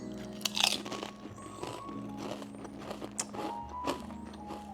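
Close bites and crunches into a steak-flavored Lay's potato chip, several sharp crisp cracks followed by chewing, loud and near with no talking.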